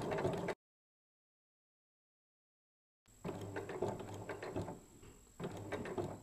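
A sewing machine stitching fabric for a wrist pin cushion, giving a quiet mechanical whir and clicking in two stretches separated by a long silent pause.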